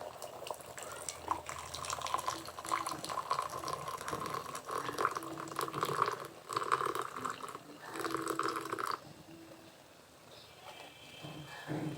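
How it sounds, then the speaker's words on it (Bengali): Tea is poured into cups at home in a steady liquid stream that trickles and splashes for several seconds, then thins and stops near the end. "চায়ের কাপে চাটা দিয়ে দিব।"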